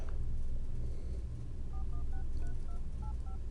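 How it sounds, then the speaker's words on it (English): Cell phone dialing a call to a business phone queue, a rapid series of short, distinct keypad tones beeping in an uneven rhythm over a steady low background hum. "I'm actually going to call in here from my cell phone"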